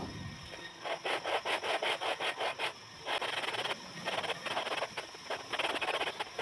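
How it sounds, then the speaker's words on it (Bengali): A bottle rubs old glue off the paper cone of a 15-inch loudspeaker being repaired, making rapid, rhythmic scraping strokes in close, steady runs with brief pauses between bursts. "একটি বোতল দিয়ে ভালোভাবে ঘষে পুরাতন যে আটা ছিল সেই আটাগুলো আমরা তুলে নেব"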